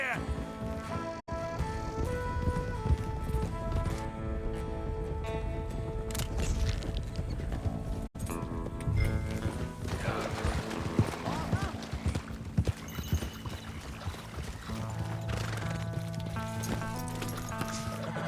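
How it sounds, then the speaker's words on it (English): A horse gallops in Red Dead Redemption 2, rapid clip-clop hoofbeats running continuously under game music, with characters talking over the ride. "I can ride a horse"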